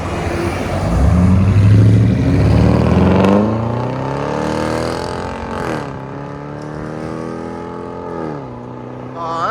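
A 2026 Dodge Durango GT's 5.7-liter HEMI V8 with a muffler delete roars loudly up close, a deep revving exhaust that climbs and then settles into a rumbling idle with smaller blips.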